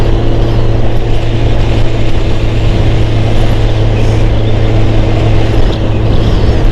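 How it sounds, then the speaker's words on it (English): Honda Fireblade motorcycle engine running steadily at a bike meet on a farm, a loud continuous low hum with a constant tone and no speech over it. "the engine's lovely on this, really lovely"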